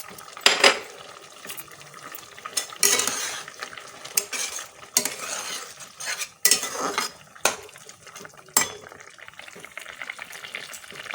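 Fried bori being mixed into a pot of Bengali ridge gourd sukto with bitter gourd: a spoon scrapes and clinks against the pan in sharp, irregular strokes with quieter stirring between, and no voices.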